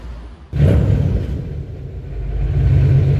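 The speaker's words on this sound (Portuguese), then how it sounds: "Esquentando o motor." A Subaru V8 car engine starts abruptly, then settles into a loud, close, deep rumbling idle that swells slightly as it warms up, with no talking.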